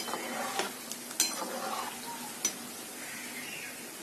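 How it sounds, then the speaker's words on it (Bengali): Onion bondas fry in oil over medium heat, making a soft, steady sizzle with a few light clinks of a utensil against the pan, close by and with no talking. "এজন্য চুলার আঁচটা মিডিয়ামে রেখে গোল্ডেন ব্রাউন কালার করে ভেজে নিতে হবে।"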